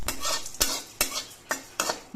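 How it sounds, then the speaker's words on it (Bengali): Spices for dalma are stirred as they fry in a pan, producing a regular series of scraping strokes roughly every half second over a low background sizzle. The sound is close and steady, with no voices. "এবার মশলাটা ভেজে নিতে হবে মশলাটা খুব ভাজার সময় নাড়তে হবে যাতে মশলাটা পুড়ে না যায়"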